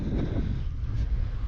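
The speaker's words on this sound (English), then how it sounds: "it's super windy, the wind's gusting now" Steady, blustery wind in the Scottish Highlands near an 1826 tower buffets the microphone with low rumbling gusts, no voices present.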